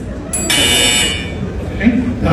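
A loud electronic buzzer blares for about a second, then a voice speaks briefly nearby.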